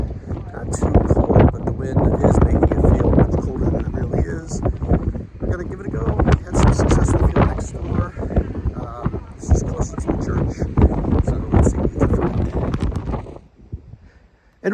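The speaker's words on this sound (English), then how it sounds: "it is very blustery. Winds up to 60 or 70 miles an hour expected" Strong gusts of wind buffet the microphone outdoors during metal detecting in blustery weather, loud rumbling roars that surge and ease for most of the stretch before dropping away near the end.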